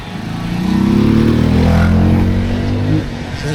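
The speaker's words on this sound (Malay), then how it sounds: "Ni first time kami tengok race motor" Motorcycles race past on a track, a loud droning engine roar that swells and holds steadily for several seconds before easing slightly, with no talk over it.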